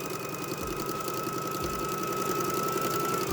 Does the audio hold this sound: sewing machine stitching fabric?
yes